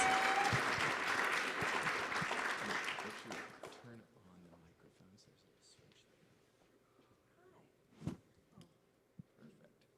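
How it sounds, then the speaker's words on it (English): An audience applauds at a community gathering with loud, dense clapping at first, which thins and fades over several seconds into quiet murmuring and a few stray sounds, with one louder knock or bump near the end. "Let's give them a round of applause for their service."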